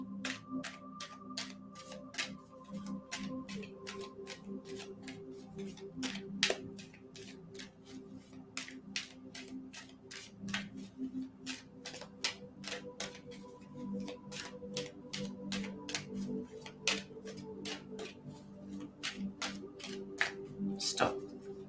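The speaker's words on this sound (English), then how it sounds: "Penny, Penny, tell me when to stop shuffling." Tarot cards are shuffled by hand in a steady run of sharp, rapid riffling clicks, close and fairly quiet, while a voice talks softly underneath.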